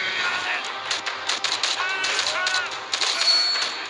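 Gunfire in the mobile first-person shooter Commando Fire Go, with short bursts of shots cutting through busy game noise and a Thai-speaking voice talking over the action.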